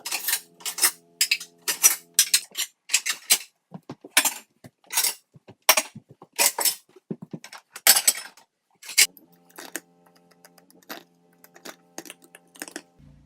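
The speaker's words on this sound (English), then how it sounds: "these are the already clean dishes" Clean dishes and metal cutlery clink and clatter in bursts as they are handled and stacked in a kitchen, the close, sharp knocks arriving in irregular clusters with short pauses between them.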